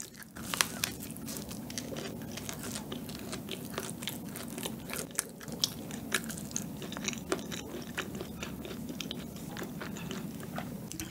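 Close-up crunchy chewing of crispy food, with repeated crackling bites and crunches in an irregular rhythm.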